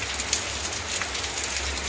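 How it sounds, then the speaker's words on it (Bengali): A downpour of heavy rain drums on surfaces nearby, a steady broadband wash with faint scattered drop impacts and no talking. "বিশালভাবে বৃষ্টি হচ্ছে"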